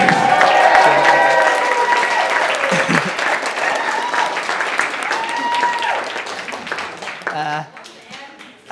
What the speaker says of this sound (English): Ladies and gentlemen, it's the groom. Big round of applause, please.